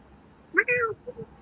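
A person voices a short, clear meow in imitation of a cat, a single rising-falling call followed by a little quiet speech.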